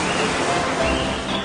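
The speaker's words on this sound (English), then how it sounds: "I can also have my lunch here at the" A waterfall on a private farm estate rushes in a steady, loud broadband roar that fills the whole moment without a break.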